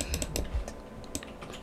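Rapid computer clicking during a MooMoo.io game session, a quick irregular run of light, close taps with no voices.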